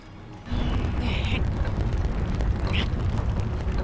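A rocket ignites in Zelda: Tears of the Kingdom, a sudden loud roaring burst that holds as a continuous heavy rumble, with short whooshing flares over it.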